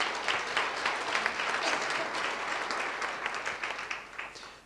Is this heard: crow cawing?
no